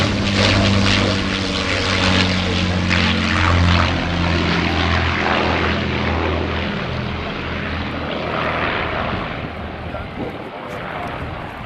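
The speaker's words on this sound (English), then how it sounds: "on the Saturday night when everybody had departed, it did a sneaky flyby" A propeller-driven aircraft makes a low flyby in the evening. Its loud, droning engine roar fills the whole stretch, swelling and then gradually easing as it passes.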